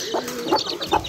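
A backyard hen gives a few soft, short clucks spaced about every half second, close by and fairly quiet against a light background hiss.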